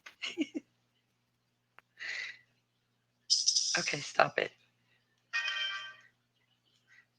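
Several short phone notification tones ring out, each a brief bright electronic chime or jingle, spaced apart with a longer tambourine-like shimmer near the end; a voice speaks briefly between them.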